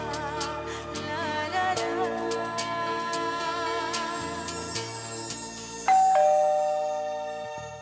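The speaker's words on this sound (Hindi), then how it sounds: "खाने के बीच में घंटी कौन बजा रहा है" Chiming electronic doorbell tones ring out in a melodic sequence, followed by a louder ding that slowly fades.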